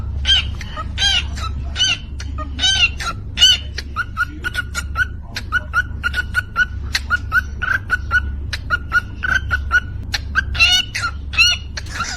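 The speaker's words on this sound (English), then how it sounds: "I'm almost okay with the cockatiel that knows how to beatbox" A pet cockatiel beatboxes close by in quick rhythmic clicks, chirps and whistles. A low steady hum runs under the bursts, and some of the calls sound like whimpers or clucks.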